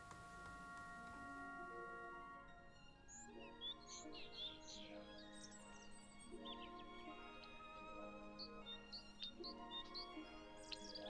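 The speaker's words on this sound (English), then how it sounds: "Oh, come on, Mrs. Blackbird." A blackbird sings over a steady orchestral backdrop, its clear whistled phrases and chirps recurring through the passage at moderate volume.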